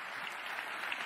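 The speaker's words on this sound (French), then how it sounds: "s'il vous plaît, applaudissez-le, joignez-vous à moi" An audience at a formal event applauds President Banda Kani with a brief, dense burst of steady clapping heard from the room.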